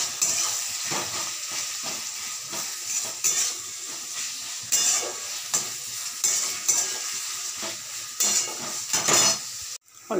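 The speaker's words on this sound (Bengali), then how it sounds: "এটা একটু ভাজা হোক।" Onions sprinkled with salt sizzle and fry in a pan as a spoon stirs them, steady frying hiss broken by repeated scraping and clinking strokes, close and loud.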